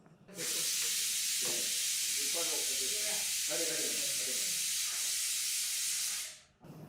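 A pressure cooker cooking pongal vents steam in a loud, continuous whistle-like hiss lasting several seconds, with voices talking faintly underneath before it cuts off.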